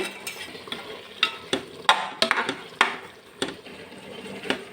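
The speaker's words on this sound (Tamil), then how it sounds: "சோயாவை சேர்த்து நல்லா மிக்ஸ் பண்ணி விடுங்க" Boiled soya chunks being stirred into masala in a pan for meal maker biryani, with a spoon scraping and clinking close up in an irregular rhythm of sharp knocks over a low, steady cooking hiss, no voices.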